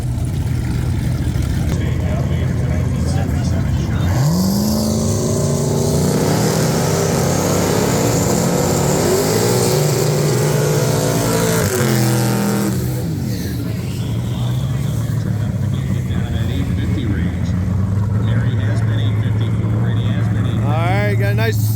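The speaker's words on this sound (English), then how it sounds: "Got a nice burnout, getting those tires warm." A drag car doing a burnout at Bristol Dragway to warm its tires, a sustained loud engine roar that climbs in pitch and holds for many seconds, with someone talking over it.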